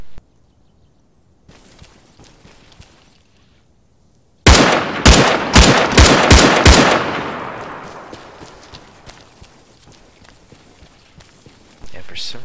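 Rapid burst of AKM rifle fire in the Arma 3 video game: six or seven loud, sharp shots in quick succession, followed by a long echoing decay, with quieter background noise before and after.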